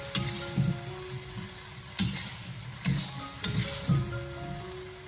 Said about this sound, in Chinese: 我们给它不停的翻炒2分钟左右，将茄子给它炒至入味。